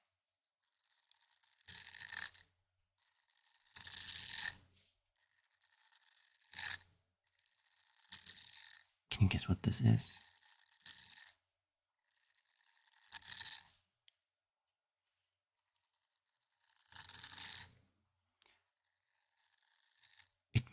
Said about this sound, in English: Nails on textile.